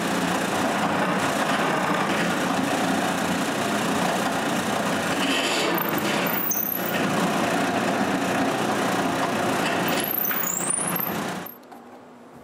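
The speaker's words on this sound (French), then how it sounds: "Après, je perce le trou du pivot." Power drill boring a pivot hole into a wooden piece for a wooden tripod, a steady motor whine under workshop noise, with brief high squeals near the middle and end before the drill stops.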